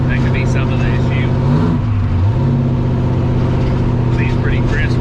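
A turbocharged 5.3 LS V8 in an Oldsmobile Cutlass runs loud and close in a steady, crisp drone, dipping briefly in pitch mid-way before settling back, with faint voices in the background.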